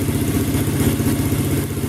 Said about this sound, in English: The engine is in, the CR chassis, and it's running.